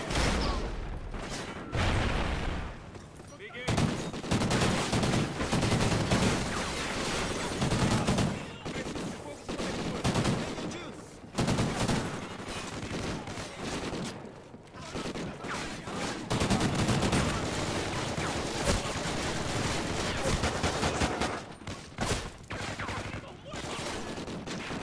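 Rapid gunfire crackles through a Call of Duty Ghosts firefight on PlayStation 5, with dense automatic bursts broken by short pauses, loud and close, while voices speak intermittently over the shooting.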